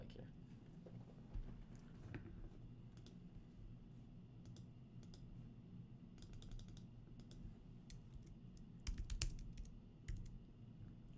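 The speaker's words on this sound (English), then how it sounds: "I'm typing in the box" Scattered clicks of typing on a computer keyboard sound quietly in short bursts, with a louder cluster of keystrokes near the end over a low background hum.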